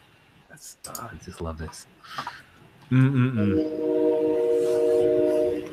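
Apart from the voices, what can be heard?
train passing nearby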